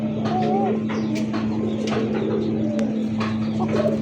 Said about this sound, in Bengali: কোকার ডাকটা শুনি।